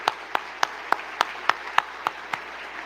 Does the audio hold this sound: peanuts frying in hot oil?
no